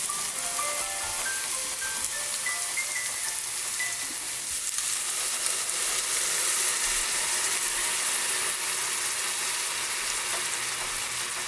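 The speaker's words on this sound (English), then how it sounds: "so now I'm going to add my heavy whipping cream." A pan of chipotle creamy pasta sizzles and fries steadily as heavy whipping cream is poured in, a loud dense crackle that carries on without pause, with a few brief tones early on.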